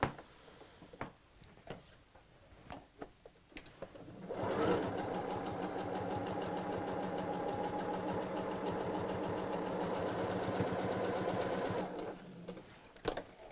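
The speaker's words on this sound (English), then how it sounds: "I'm just going to sew straight down both sides" A sewing machine stitching straight seams down both sides of folded fabric, a steady mechanical whir running for about eight seconds, with quiet handling clicks before and after.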